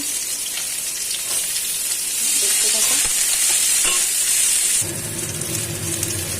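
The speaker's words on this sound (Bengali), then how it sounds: "এবার আমি উচ্ছেগুলো দিয়ে দিলাম, উচ্ছেগুলো ওরকম করেই ভেজে নেব।" Sliced bitter gourd fries in hot oil with turmeric and salt, a steady close hiss and crackle that surges loudly midway, then settles into a lower bubbling sizzle while a voice speaks briefly.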